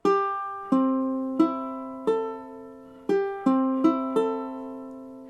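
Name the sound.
tuned ukulele strummed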